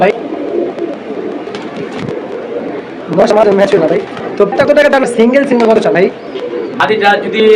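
Pigeons cooing close by, a burst of throaty rolling coos in the second half over a low murmur of background noise, with someone talking at the same time.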